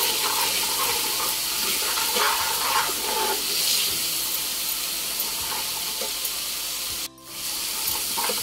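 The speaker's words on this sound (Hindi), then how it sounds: "हम इसमें 1 चम्मच धनिया पाउडर डालेंगे। थोड़ा सा गरम मसाला पाउडर डालेंगे और इसको अच्छे से मसाले में भूनेंगे।" Coriander powder and garam masala fry in a pan of masala while dal makhani is cooked, a steady broadband sizzle with soft scraping stir sounds running throughout, close and fairly loud, with one brief dip near the end.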